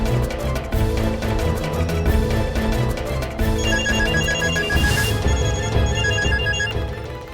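A telephone rings in repeated electronic bursts with short pauses between them, loud and close over a background music score, with no talking.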